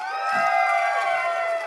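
A live comedy show crowd at Skankfest lets out loud, sustained cheering and whooping from many voices at once. No distinct claps stand out.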